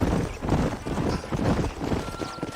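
Horses ride at a steady clip in the Red Dead Redemption video game, with dense, continuous hoofbeats and tack noise rolling along loudly and unbroken, with no voices.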